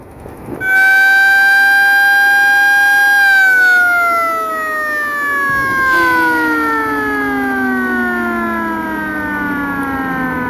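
Passenger river launch on the Bhairab to Nobinagar route sounds its loud siren horn to warn nearby boats. One long, blaring, harmonic-rich blast holds steady, then its pitch slowly sags over about ten seconds.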